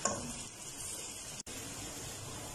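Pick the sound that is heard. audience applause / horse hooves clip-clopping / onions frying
onions frying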